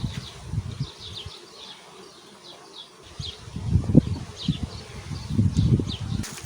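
Honeybees buzz around an open hive of 24 frames raising drones, a low humming drone that swells and fades with nearby wingbeats, some close passes rising louder toward the end over faint outdoor ambience.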